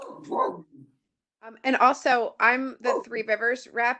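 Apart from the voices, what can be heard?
dog barking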